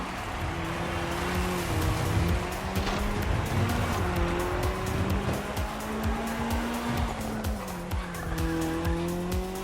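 Racing cars from The Crew Motorfest, at a Red Bull Speed Clash event, roar loudly and continuously, with revving engine tones that rise and fall through gear changes and tires squealing throughout.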